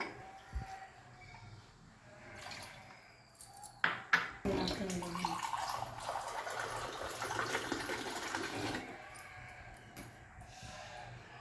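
Water poured from a vessel into a pressure cooker holding moong dal and sago, a close, steady splashing pour lasting several seconds after a few clanks of utensils.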